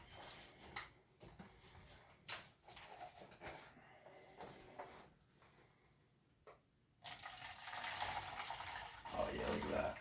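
Broth draining off a smoked pork butt, with quiet splashing and trickling liquid that builds to a steadier pour toward the end, with faint clunks and a voice briefly heard.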